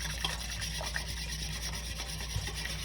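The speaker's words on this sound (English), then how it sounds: "But this is all I'm gonna be doing to the cream, guys. Just whisking it." Cream is whisked by hand for peanut butter ice cream, making a continuous, quiet scraping and rubbing sound with soft irregular ticks of the whisk against the bowl.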